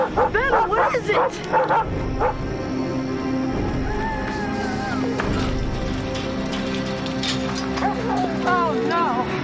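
A dog named Vandal barks in sharp bursts, then whimpers and whines in rising and falling tones, with people talking over and between the dog sounds.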